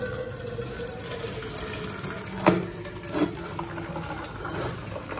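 Rice-cooking water is drained from an open pot, a soft steady trickle and splash with a couple of brief louder knocks of the vessel, fairly quiet and close.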